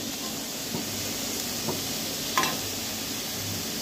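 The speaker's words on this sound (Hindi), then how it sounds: "इसी तरह से इसको भी भूनेंगे थोड़ा सा फैला के, जाके थोड़ा सा शिमला मिर्चा भी नरम हो जाए।" Onion and capsicum stir-frying in a pan for paneer momo filling, a steady soft sizzle and hiss with a few faint stirring scrapes, no talk.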